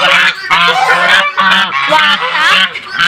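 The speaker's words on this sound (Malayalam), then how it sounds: "വാത്ത" Geese honk loudly and repeatedly on a farm, with overlapping calls in a rapid, continuous chorus that stays close and dominant throughout.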